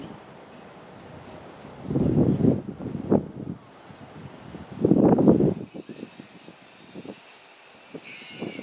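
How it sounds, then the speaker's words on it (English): Wind gusts buffet the microphone outdoors beside a Land Rover Defender under repair, with two loud rumbling bursts rising and falling against a quieter breezy background. "the wind is blowing"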